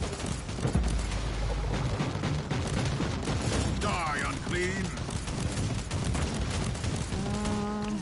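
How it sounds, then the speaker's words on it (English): Bolt gun fire in Warhammer 40k: Inquisitor Martyr on PS4 Pro, a rapid stream of gunshots under busy game music and effects, with some tonal electronic chirps near the end. "We could try out my bolt gun"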